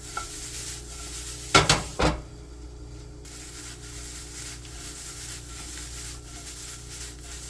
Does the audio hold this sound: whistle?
no